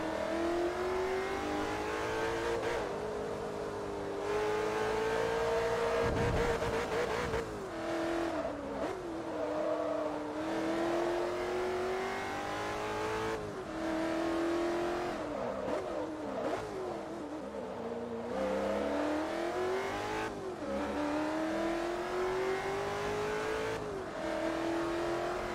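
Race car engines in the video game Forza Motorsport 3 rev and shift repeatedly, pitch climbing and dropping through gear changes over a steady loud drone with a brief tire squeal.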